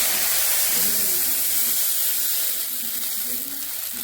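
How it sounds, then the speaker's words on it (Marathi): Water being poured into a cooking pot over spices and turmeric, a steady rushing splash with hissing steam that tapers slightly toward the end. "आता आपण याच्यात पाणी घालत आहोत।"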